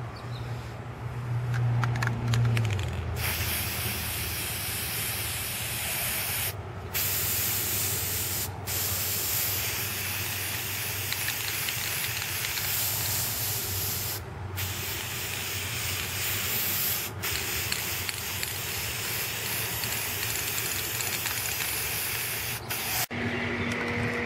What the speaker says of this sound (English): I put two coats of spray paint on